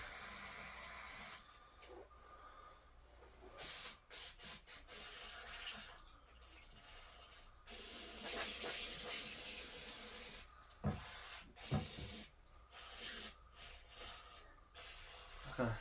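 Several bursts of hissing aerosol spray on a 1970s snowblower, some short and some sustained for a few seconds, fairly close, with quiet rustling in between.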